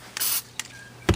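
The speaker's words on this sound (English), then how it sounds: "I'm spraying it with flat black since I got this great 99-cent can of paint here." A cheap spray can puffs flat black paint onto the power transformer of a Hammarlund HQ-200 radio receiver, in three short, close hissing bursts, the first the longest.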